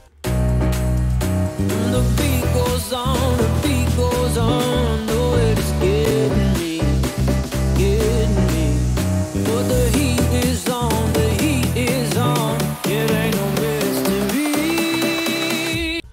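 Future house build-up building continuously, with a steady pounding beat, layered synths and rising energy, loud and without any voices.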